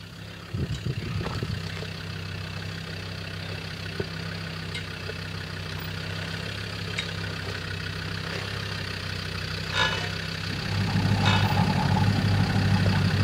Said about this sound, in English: those noises are normal on this car. Lots of rattles.